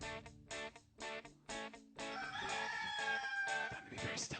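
A rooster crows in a cartoon, a faint drawn-out call rising over bouncy background music after a few short rhythmic notes.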